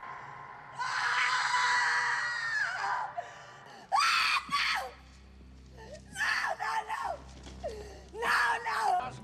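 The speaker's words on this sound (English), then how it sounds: "Stretch's screaming gets very irritating during this scene." A woman screams in the dinner scene of Texas Chainsaw Massacre 2, with one long sustained shriek followed by several shorter, piercing wailing bursts in quick succession, loud and close, with low rumbling movie sound beneath.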